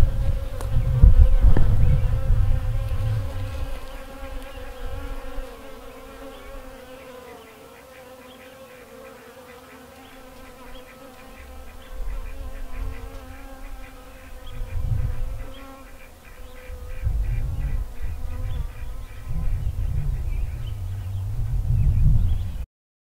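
Honey bees from a newly installed hive buzz steadily for the whole stretch, a dense droning hum that swells louder near the start and again toward the end, with no talking.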